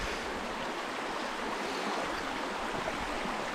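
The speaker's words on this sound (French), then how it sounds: "Voilà le ruisseau de la Bergerie" Small creek called the Bergerie stream on a hiking trail, a steady broadband rush of flowing water filling the whole moment without pause, fairly close and even, with no voices over it.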